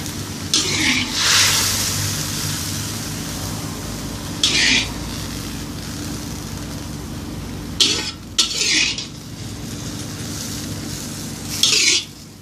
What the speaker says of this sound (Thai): เราก็ตักใส่จานเสิร์ฟเลย